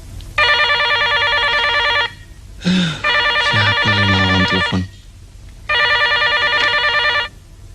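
An old telephone bell rings loudly and close in three long trilling bursts separated by short pauses, with a brief clattering sound between the first two rings, in a scene from an Indonesian film.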